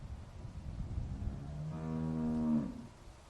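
Cow in the video game The Walking Dead giving a single long, low moo that swells and fades over about a second, heard alone over a soft rumbling outdoor ambience.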